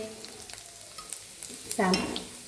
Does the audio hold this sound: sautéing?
yes